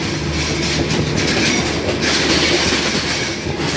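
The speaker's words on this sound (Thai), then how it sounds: "รถไฟไม่จอดนะครับ" A commuter train on the Mahachai–Wongwian Yai line rumbles past close by without stopping, steady and loud, with rhythmic clickety-clack of wheels on rails and a faint metallic squeal throughout.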